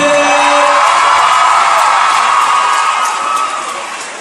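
A theatre audience at the Grand Rex premiere of Aladin cheers, whoops and shouts loudly together as one roaring wall of crowd noise that fades slightly toward the end.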